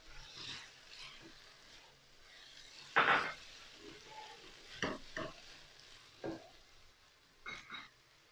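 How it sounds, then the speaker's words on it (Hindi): Chicken frying in a pan with onions being added, a soft, faint sizzle broken by a few sharper clatters and stirring scrapes. "चिकन हमारा मुकम्मल फ्राई हो गया, मैं इसके अंदर प्याज ऐड करूँगी।"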